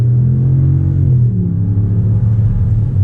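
A 2019 Ram 1500 Big Horn North Edition pickup with the 5.7 Hemi V8 and 3.92 rear gears accelerates, its engine a loud, steady low rumble that builds and holds from start to finish, heard from inside the cab with no talking.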